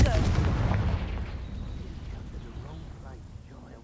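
A Confringo fire spell blasts in Hogwarts Legacy, a loud booming burst at the start that rolls off into a long rumbling decay, with game ambience and faint chirps trailing after.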